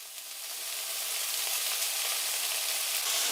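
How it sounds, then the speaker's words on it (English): Diced sweet peppers and capsicum stir-fry in a hot pan, giving a loud, continuous close sizzle with light stirring that stays even from start to finish, without speech. "तो उसको हम stir fry कर रहे हैं."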